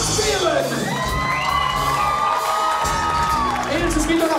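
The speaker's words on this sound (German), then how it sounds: "Ladies and Gentlemen, ein Riesenapplaus für unsere drei Tanzbären!" A concert crowd at a farewell show in a club cheers, whoops and shouts for three dancers, loud and continuous, with music tones sliding above the roar.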